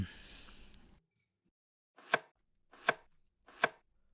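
A knife chops vegetables on a board: three crisp, evenly spaced strikes ring out close and clear after a short burst of room noise and a second of silence.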